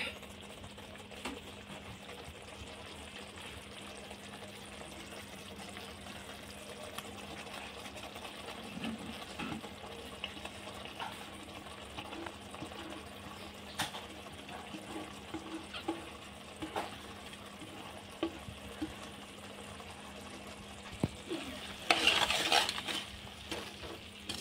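Paneer being gently stirred into cooked masala in a pan for dhaba-style paneer bhurji, giving soft, steady scraping and stirring over a low background hum, with a louder clatter of the pan near the end.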